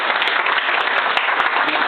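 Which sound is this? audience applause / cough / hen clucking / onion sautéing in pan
audience applause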